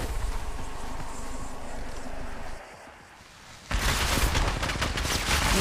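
Gunfire in the mobile battle royale game Apex Legends Mobile, a dense, continuous barrage of shots that drops briefly into a quieter lull before erupting again even louder, close and sustained to the end.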